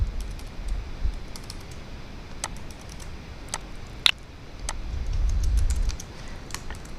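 Light, sparse clicks come from a computer keyboard as copy and paste shortcuts are entered. The scattered keystrokes sound close and fairly quiet over a low background hum, with no voice heard.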